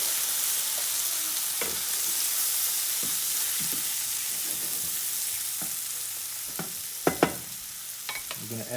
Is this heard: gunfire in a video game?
no